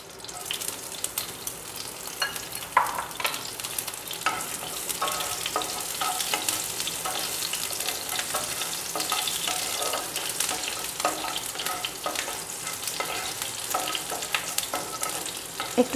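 Chopped green chillies frying in oil for a Bengali-style poha pulao: continuous crackling sizzle with irregular spatula stirs and scrapes, close and moderately loud, no voices.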